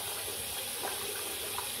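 A tap runs steadily into a sink while makeup brushes are washed under it, giving a continuous close hiss of flowing water with no voices.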